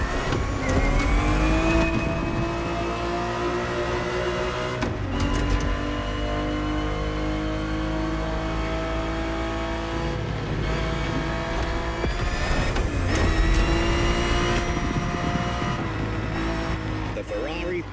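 Ferrari 365 GTB4 engine racing in The Crew Motorfest, a steady high-revving roar with rising and falling pitch as it shifts through gears, continuous and loud under a voice.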